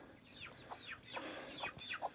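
Chickens give a run of short rising clucks and squawks, close and fairly loud, several calls in quick succession over steady outdoor background noise, heard at night as the birds are returned to a chicken tractor in a garden.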